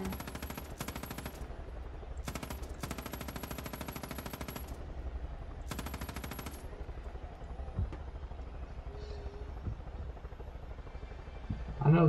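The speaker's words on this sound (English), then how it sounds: "I'm using a helicopter against a bunch of people with rifles and like shovels" Rapid gunfire from a helicopter strafing a cult outpost of rifle- and shovel-armed enemies in the video game Far Cry 5, with bursts of automatic fire in several runs over steady rotor drone.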